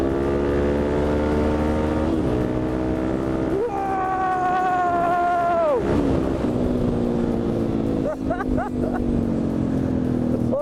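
Suzuki DRZ motorcycle engine running outdoors on a hot sunny day after a fault was fixed: a steady close, throaty drone that climbs in a brief rev and then drops back to idle, with wind buffeting.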